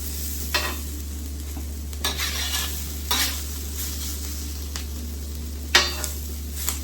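Chicken pieces fry in an oiled pan, giving a steady close sizzle under a constant low hum, broken by several sharp clinks and scrapes of a utensil stirring and handling the meat.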